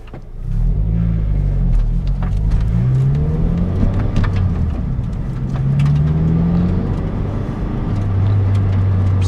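Toyota MR2 Spyder with its top up and a newly installed breastplate, driving along with a steady engine drone that rises and falls through gear changes, close and fairly loud, with no talking.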